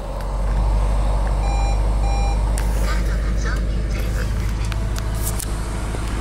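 A 2005 Audi S4 Quattro sedan starts and settles into a deep, steady engine rumble, while repeated electronic reversing beeps sound nearby and a few sharp clicks break in later.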